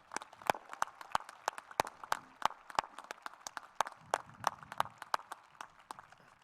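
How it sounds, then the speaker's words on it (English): Scattered hand claps ring out at an academic Latin honors ceremony, irregular and fairly quiet, never swelling into a full ovation, with a faint low murmur of the audience underneath. "Let's give a round of applause to celebrate Dr. Catanzaro"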